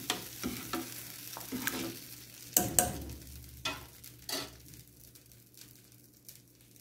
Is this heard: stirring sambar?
yes